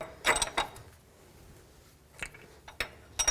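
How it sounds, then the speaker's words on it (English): A wrench tightens a nut on the front knuckle of a 2007–2014 Chevy Silverado with short bursts of ratcheting clicks and metallic creaks, separated by a quiet pause. "I'm just going to make it really tight with the wrench."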